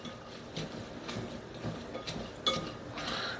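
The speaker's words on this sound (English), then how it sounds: "We're going to mix them around with the onion sauce." Fine breadcrumbs stirred into onion sauce in a bowl for meatloaf, soft scraping and mixing with light utensil clinks against the dish at an uneven rhythm, close and quiet with no talking.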